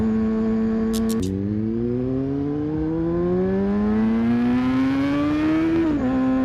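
An ordinary motorbike engine revs and climbs steadily in pitch as it speeds away, loud and close, with a brief gear-shift dip near the start and a slight drop at the end.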